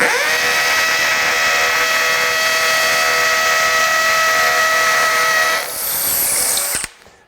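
A DEWALT 20V hammer drill in hammer mode, level 3 (38,250 BPM), runs at a steady, high-pitched whine with a rapid buzzing hammer action for about six seconds, close and loud, then winds down and stops.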